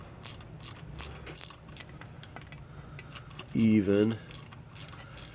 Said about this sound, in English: 1/4 inch micro ratchet.